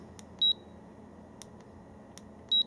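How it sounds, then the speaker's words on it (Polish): Two short, high electronic beeps about two seconds apart from a Hama Liquid Image EGO action camera signalling a function, sharp and close, over a faint background hiss with a few soft clicks. "Kamera przede wszystkim, jak słyszeliście, informuje nas sygnałami dźwiękowymi o jakiejś akcji"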